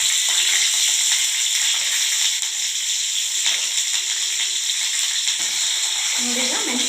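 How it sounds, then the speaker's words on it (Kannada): Green chillies frying in a little oil for an Andhra-style fenugreek leaf chutney, a close steady sizzle with light crackle and brief faint stirring touches, unbroken for the whole stretch. "ಈಗ ಮೆಣಸಿನ್ಕಾಯಿನ ಚೆನ್ನಾಗಿ ಫ್ರೈ ಮಾಡ್ಕೋಬೇಕು"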